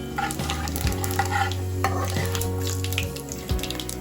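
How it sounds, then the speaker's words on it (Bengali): Bay leaf, dried red chilli and panch phoron spices frying in hot oil after fish head was fried, a continuous close sizzle with spatula stirring and scraping, no speech. "ওই তেলের মধ্যেই তেজপাতা শুকনো লঙ্কা আর পাঁচ ফোড়ন অ্যাড করে দিলাম"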